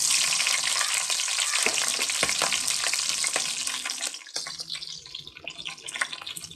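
Green chillies for a salmon fish curry fry loudly in hot oil with a dense, crackling sizzle that eases after a few seconds into quieter popping and spatters.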